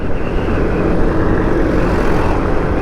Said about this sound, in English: Another tractor.